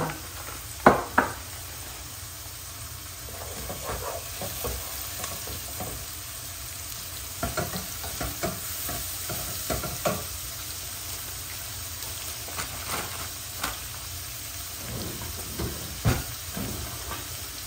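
Vegetables with shrimp and tilapia fillet fry in a pan with a steady, close sizzle, broken by scattered scrapes and clicks of stirring throughout.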